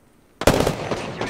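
Rapid gunfire from an Apex Legends firefight on Xbox One X breaks a near-silence with a loud, dense burst of shots that rattles on for about a second.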